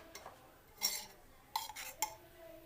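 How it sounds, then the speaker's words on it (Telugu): Metal kadai set down on a stove in a home kitchen: a few sharp, faint clanks and scrapes in a quiet room, with no voices. "స్టవ్ మీద బాండిలి పెట్టుకొని"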